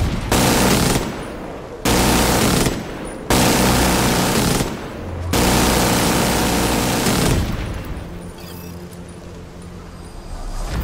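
Long bursts of machine gun fire in The Division 2 come in loud, sustained volleys with brief gaps between them. The last stretch turns to a quieter rumbling background.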